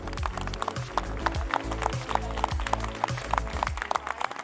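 A plenary audience at the World Impact Summit 2025 applauds the technical teams, with steady, dense clapping that fills the hall, punctuated by louder bursts and a low rhythmic thumping underneath.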